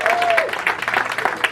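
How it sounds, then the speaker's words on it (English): Audience applause at a public meeting, a steady burst of many hands clapping close by, filling the moment without talk. "Give a round of applause for Rosie Jackson."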